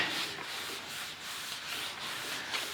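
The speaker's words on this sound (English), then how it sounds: "I'm just wiping off any residue left over." Steady rhythmic rubbing as contact cement residue is wiped off a surface during a repair, close and fairly loud, back-and-forth strokes about every half second with no talking.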